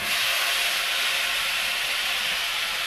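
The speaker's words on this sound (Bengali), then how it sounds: "এবার দেখো আমি কড়াইতে পেঁয়াজ বাটাটা দিয়ে দেবো, তেলেতে" Onion paste hitting hot oil in a wok (kadai) while cooking rohu fish curry, giving a steady, loud, broadband sizzling hiss that runs unbroken and close throughout, with no talking.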